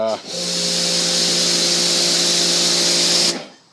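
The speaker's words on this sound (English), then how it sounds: "get a low pressure nozzle put on the pressure washer" A pressure washer with a 25-degree nozzle sprays an engine in one loud, continuous hissing blast over a steady motor drone, starting abruptly and cutting off after about three seconds.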